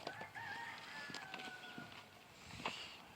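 Buff Laced cockerels crowing and clucking in a pen, with several long drawn-out crows overlapping and a sharper call near the end, moderately close and without talk.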